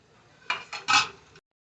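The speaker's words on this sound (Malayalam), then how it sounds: "മൂടി വെച്ച് വേവിക്കാം." A lid is set onto a cooking pot of mango pulissery with melting jaggery: two quick metallic clanks, then a louder settling clatter, close and clear.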